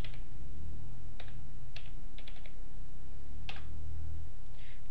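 Light, scattered clicks of typing on a computer keyboard, a few isolated keystrokes and a quick cluster, recorded close over a steady low hum and hiss.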